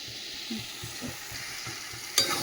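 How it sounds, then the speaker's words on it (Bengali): Food in a pan is stirred after sugar and garam masala go in, with a soft sizzle, rhythmic scraping strokes and one sharp clatter near the end. "একটু মিষ্টি আর গরম মশলা দিয়ে আরেকটু নাড়াবো"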